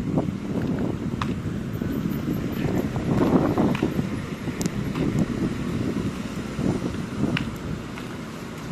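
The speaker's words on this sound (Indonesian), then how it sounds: "kita tutup dulu biar nggak didobrak angin" Strong wind gusts steadily through an open door, a continuous rushing roar with occasional sharp knocks and bangs from the loose door.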